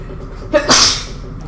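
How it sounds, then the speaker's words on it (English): A single close, loud sneeze from a man in a room, a short breathy intake followed by a sharp burst and a fading hiss, alone with no talk around it. "I just went ahead and sneezed there"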